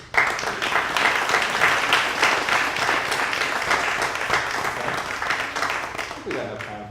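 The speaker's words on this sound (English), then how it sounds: "Give a round of applause for those." Steady applause from an audience fills the room for several seconds, dense and even, fading slightly toward the end as a voice begins.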